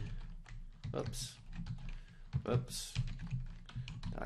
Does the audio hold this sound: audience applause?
no